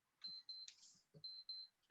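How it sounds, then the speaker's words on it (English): High electronic beeps sound in short pairs, fairly faint and distant, with a few soft knocks between them. "Yeah, I hear some beeping somewhere."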